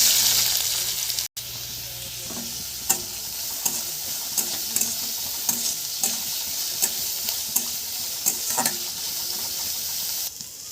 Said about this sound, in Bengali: প্রথমে পেঁয়াজ কুচিগুলো ভেজে নেব।